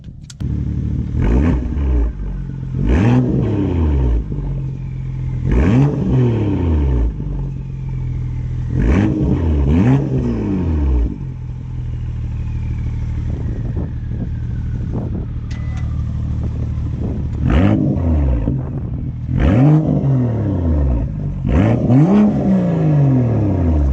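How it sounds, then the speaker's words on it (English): A BMW M2 engine revs repeatedly in sharp bursts with exhaust flaps open, each rising and falling with a loud, raspy exhaust over a steady idle, close by. "give it some revs in normal, and then give it some revs in M Performance mode"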